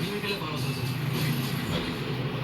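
A rumbling train in a video game rolls past steadily, with a voice talking over the noise.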